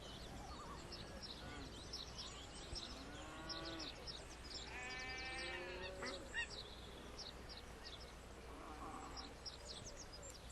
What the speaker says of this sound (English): More sheep, and now we have cows as well.